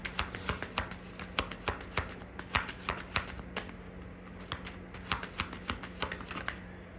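Tarot cards being shuffled by hand in a quick, steady run of crisp riffling flicks and soft slaps, close and clear, with no talking over them.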